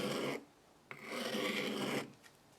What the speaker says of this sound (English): This chisel is quite rusty, so I'll give it a quick clean and sharpen first.